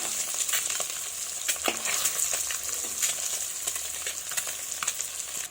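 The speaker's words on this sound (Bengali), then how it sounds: "এটাকে নেড়ে এইভাবে আস্তে করে ভেজে নেব।" Duck eggs frying in a pan with a little salt and turmeric, a continuous bright sizzle close by with intermittent stirring clicks and scrapes.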